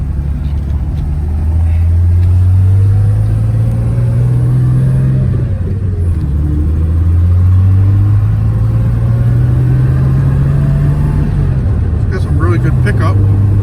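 A slope-nosed car on a test drive, engine droning low and steady as it accelerates, the pitch climbing and dropping through gear changes, with a voice talking over it.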